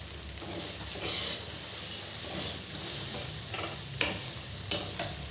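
Achari masala okra (bhindi) being stirred in a pan over a low flame, with a steady sizzle and hiss and a few sharp scraping clinks of the spoon near the end.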